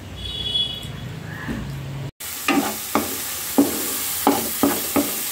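Spice masala for egg curry being stir-fried in a pan, with a steady sizzle and a run of sharp spatula scrapes and stirs after a brief pause, close and fairly loud, with no talking.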